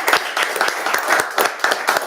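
Applause at a town council meeting, with rhythmic clapping bursts repeating steadily for about two seconds, moderately loud and close, no voices.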